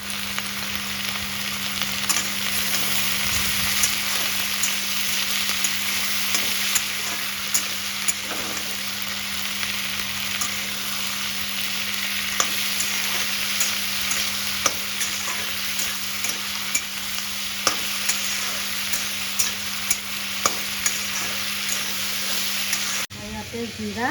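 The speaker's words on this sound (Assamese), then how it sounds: "ইফালে মই পিঁয়াজ, বিলাহী, জ্বালা দি পেলাই তেলত ভাজি লৈছোঁ।" Onion, tomato and chili frying in oil make a steady, close sizzle with crackling and occasional stirring ticks, lasting unbroken throughout with a constant low hum underneath.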